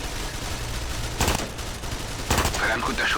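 Gunfire in the tactical shooter Ghost Recon Advanced Warfighter 2, two short loud bursts of rapid shots about a second apart over steady background game noise.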